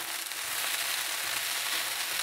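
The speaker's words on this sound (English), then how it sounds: "And this is a cast iron skillet wok, which is a really handy thing to have. And I'm putting my green onions." Green onions fry in a cast iron skillet wok with a steady, dense sizzle that holds at an even level throughout, close and alone with no voices.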